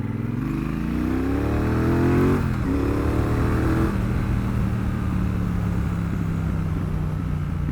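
A Triumph Bonneville Bobber 1200 engine pulls hard uphill, its deep exhaust note climbing steadily in pitch, dipping briefly, then settling into a loud, steady drone under rushing wind.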